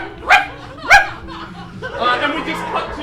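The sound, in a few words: voices imitating little dog sounds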